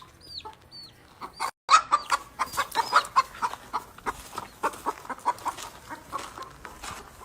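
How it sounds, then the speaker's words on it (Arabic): A hen clucks protectively over her chick beside a river, sounding a quick, uneven run of close, sharp clucks after a brief quiet start. "وهذا في الدجاج وخايفة على ولدها يضيع ولا يطب في النهر"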